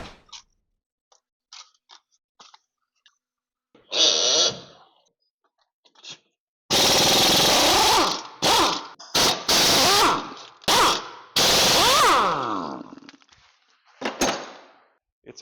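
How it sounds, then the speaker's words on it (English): Air hammer hammering back and forth on the stuck ears of a corroded transmission part on a 2011 Scion tC, with loud sustained rattling bursts separated by pauses and a few lighter taps. "hitting it with the air hammer on these ears back and forth"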